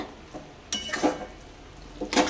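Spoon scraping and clinking against a pan while bottle gourd and shrimp curry is stirred, with three short bursts of clatter spread across a quiet kitchen background.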